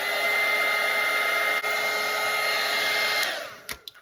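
A hair dryer blows steadily and loudly over a watercolour painting, then switches off and winds down near the end, followed by a few faint clicks.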